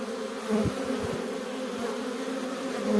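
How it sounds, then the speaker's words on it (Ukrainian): Honeybees flying around the hives of an apiary, a continuous close buzzing drone with a few individual bees passing nearby, alone without talk. "бджола працює ідеально, всі літають в ліс"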